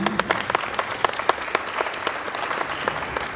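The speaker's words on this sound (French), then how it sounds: "Merci beaucoup Jean-Pierre Chavet, on vous applaudit." An audience at an agricultural robotics forum applauds after a talk, a moderately faint, sustained crackle of many clapping hands with a few sharper claps standing out.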